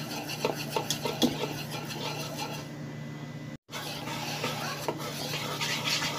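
Cake batter stirred and mixed by hand in a bowl, a steady scraping, rubbing sound with light clinks of a utensil, close and fairly quiet, with one brief break partway through.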